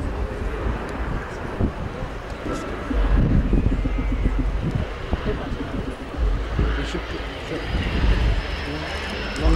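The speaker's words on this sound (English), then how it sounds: "He's just bled all that speed off, configured the aircraft with the undercarriage down and flaps are lowered, and has been given permission to land on runway 27." A Swedish Air Force JAS-39 Gripen fighter jet comes in to land at an RIAT airshow at RAF Fairford, a loud, sustained engine roar with wind buffeting, heard beneath ongoing speech.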